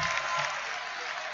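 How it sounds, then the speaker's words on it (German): A stadium crowd at a football match applauds, a dense wash of clapping hands that holds steady and fairly loud for the whole moment, with no voices rising above it. "Und jetzt der 10-Applaus"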